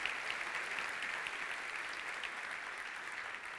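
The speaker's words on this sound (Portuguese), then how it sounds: "Se é para aplaudir, aplauda e louve a Deus." Congregation applauding during a church sermon, a steady, even patter of many hands at moderate distance that holds for several seconds without talk.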